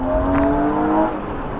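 A BMW E36 M3 fitted with Raceland headers and a new exhaust gives a deep, steady engine note with a held tone that fades slightly near the end. It is heard up close, with no talking.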